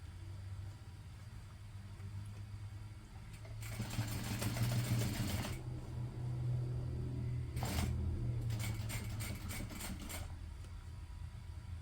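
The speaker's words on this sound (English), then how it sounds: "So here we're going to be sewing through the exterior, the top panel, and the connector." A sewing machine stitches through the exterior, top panel and connector of a large tote bag. Two rapid whirring bursts, the first about two seconds and the second shorter and choppier, sit over a steady low hum with quiet gaps between.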